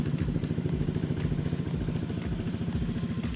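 A Lifan KPV150 motorcycle engine runs at a steady idle, its close, even low-pitched chugging pulsing throughout with no voices.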